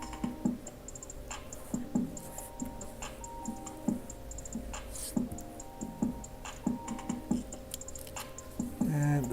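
A cheap craft blade cutting out the eyes of a vinyl airbrush skull stencil, heard as a series of close, sharp ticking taps and scratches at an uneven rhythm over a faint hum.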